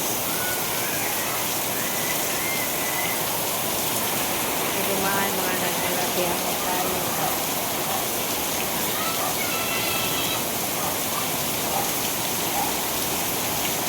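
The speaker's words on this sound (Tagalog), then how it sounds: "Ganun kalakas ang ulan, guys." Heavy rain pours steadily and loudly, a dense continuous hiss of water on surfaces throughout, with a voice briefly speaking over it.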